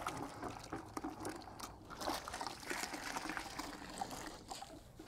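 Water trickles, pours and sloshes steadily as a motorcycle wash mitt is rinsed in a rinse bucket while detailing an MV Agusta F3 800, with continuous close splashing and no talk.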